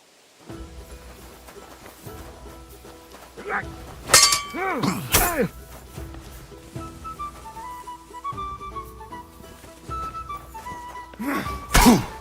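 Practice sword combat in Kingdom Come: Deliverance II, with repeated thunks and metallic clangs of weapons striking, some sharp ringing hits, over a faint steady background.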